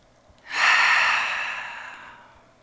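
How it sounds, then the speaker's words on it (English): A group in a trauma-informed yoga class takes one slow collective breath, a soft airy inhale swelling quickly and then trailing off gradually over about two seconds, close and gentle with no talking. "And we'll breathe in."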